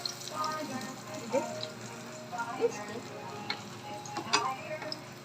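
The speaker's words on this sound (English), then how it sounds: "Jem's teaching Bella to cook" Food frying in a pan on a home stove, a soft steady sizzle with scattered small pops and ticks, heard faintly beneath nearby talk.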